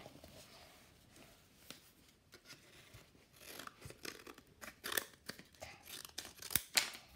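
Quiet, close snipping and crinkling while cutting material for a Playmobil frame, irregular small cuts and rustles that grow busier toward the end, with no talk over them.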